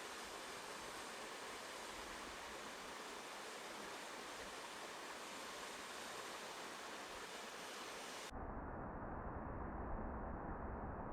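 A waterfall at the edge of a beach gives a steady, broadband rushing hiss, even and faint, with an abrupt shift to a duller, lower roar near the end.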